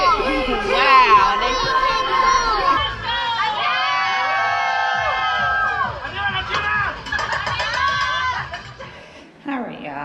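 A lively crowd of children at an all-inclusive resort in Cancun, Mexico shouts, squeals and laughs in overlapping bursts, loud and close, with excited voices rising and falling over several seconds before a short lull and a final outburst.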